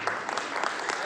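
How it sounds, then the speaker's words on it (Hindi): Audience applause at a lamp-lighting ceremony, a steady patter of clapping hands filling the short moment, with speech over it. "जोरदार तालियों से तमाम का अभिनंदन"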